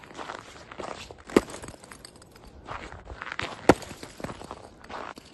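Footsteps crunch along a snowy forest path lined with pine trees, a slow, steady walking rhythm close by with two sharper, heavier steps standing out.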